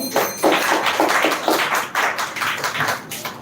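An audience applauds after a student's speech at an English-speaking contest on dowry, with a short burst of fairly close, uneven hand clapping that carries on for a few seconds.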